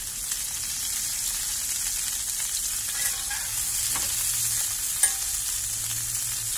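Zucchini frying in a pan gives a continuous, even hiss of sizzling oil, close and fairly loud, with a few faint clicks and one brief tap near the end.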